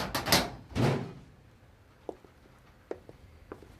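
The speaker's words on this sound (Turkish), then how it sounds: "Aç kapıyı." A door in a prison ward opens with a loud clattering bang and scrape at the start, followed by a few sharp metallic clicks and knocks in a quiet room.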